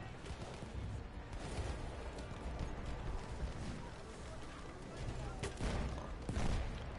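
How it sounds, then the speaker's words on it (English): Artillery fire rumbles from above in Battlefield 1, a dense, continuous low barrage with scattered sharp cracks and bursts, steady and fairly loud throughout with no clear voices over it. "This is the artillery coming up from above."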